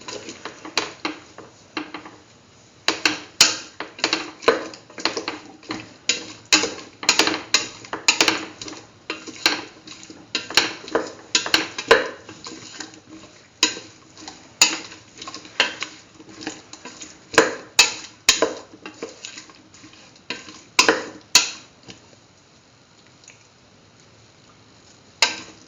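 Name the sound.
mixing cauliflower chayote stew with salt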